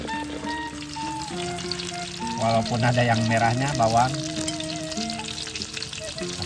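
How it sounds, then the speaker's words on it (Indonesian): Green chili sambal frying in a pan, a continuous sizzle that swells when stirred, with someone talking over it throughout. "Kita goreng sambal"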